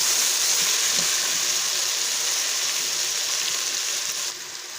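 Spices frying in oil in a pot for aloo palak, a continuous bright sizzle with faint scraping from stirring, steady and close, dropping slightly in level near the end.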